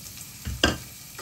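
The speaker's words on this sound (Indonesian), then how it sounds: "Saya tumis bawang putih sama jahe yang sudah saya iris" Sliced garlic and ginger sautéing in oil, a steady soft sizzle with a brief stirring scrape and clatter in the middle.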